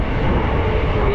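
A train running on the Mumbai to Pune line past Karjat railway station in the rain gives a loud, steady, close rumble with a dense rolling rattle throughout.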